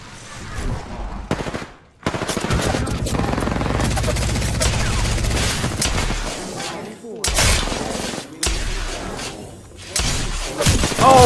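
Bursts of gunfire in an Apex Legends match, loud and close, with rapid shots, sharp impacts and shattering crashes over several seconds, broken by brief pauses and sudden loud onsets.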